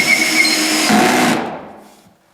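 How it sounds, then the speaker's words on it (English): A power drill drives screws into high-density panels, a steady loud whir that runs for about a second and a half before dying away. "And then just drive your screws in."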